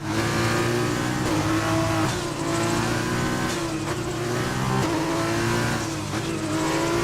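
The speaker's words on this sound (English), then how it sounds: "I think he's just flicking from 4th to 3rd just to hear the engine" Formula 2 race car engine revving hard at Bahrain as the driver flicks down from fourth to third, a loud continuous high-pitched scream with brief dips and surges at each gear change, alone without talk.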